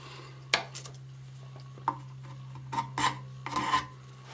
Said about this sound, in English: And a scraper just takes off a tiny little bit of wood.